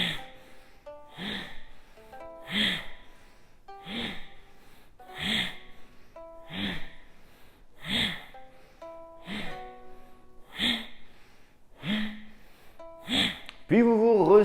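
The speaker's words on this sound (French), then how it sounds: "J'inspire au centre, j'expire derrière." Deep rhythmic yoga breaths during a spine-rolling mobility exercise, with about seven slow cycles of audible inhales and exhales repeating at an even pace, close up, with soft piano music underneath and a voice entering briefly at the end.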